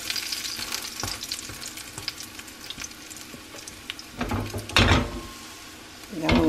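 An old-fashioned crispy-edged pancake sizzles in a frying pan after flipping, a close, steady hiss punctuated by louder clattering bursts of pan movement toward the end.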